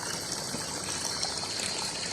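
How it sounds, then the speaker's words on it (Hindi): A village spring runs in a soft, continuous trickle, faint and even, with no voices over it. "सबसे बड़ा बेनिफिट है हमें कि यहाँ पे चश्मा मौजूद है"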